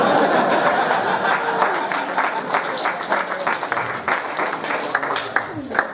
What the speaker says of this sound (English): that joke's still getting a round of applause